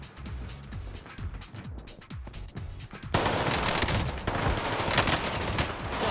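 A machine gun fires in Call of Duty Warzone on the Caldera map, rapid continuous bursts of automatic gunfire that grow louder and denser partway through, with no talk over it.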